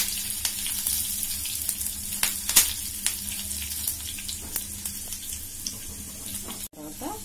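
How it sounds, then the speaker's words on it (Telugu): Garlic and curry leaves frying in oil for carrot chutney, a continuous close hiss dotted with sharp pops and crackles, then a brief break and a change near the end. "ఇవి కూడా ఆయిల్లో కొంచెం ఫ్రై అవ్వనివ్వాలి. ఫ్రై అయిన తర్వాత కరివేపాకు వేసుకుని ఫ్రై చేసుకోవాలి."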